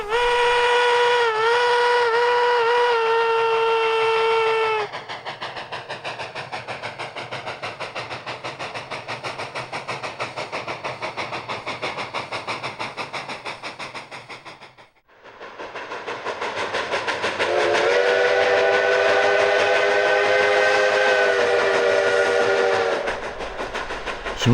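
A Cumbres & Toltec Railroad steam locomotive blows a loud, steady multi-tone whistle over a hissing, rumbling engine, then a second long whistle blast follows after a brief dip, with snow on the line.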